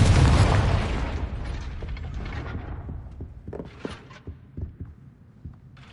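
Confringo fire spell explosion in the Hogwarts Legacy video game, a loud booming blast that rumbles and fades over a couple of seconds, followed by scattered softer thuds and crackles of debris.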